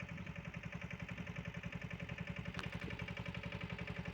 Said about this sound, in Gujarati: જો મિત્રો, હાથ ઊંચા કરીને સનેડો હાલ્યો આવે છે.